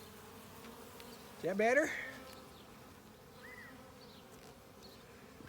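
Honey bees swarm around an opened backyard hive during an inspection, a steady low buzzing hum throughout, while a person briefly speaks over it.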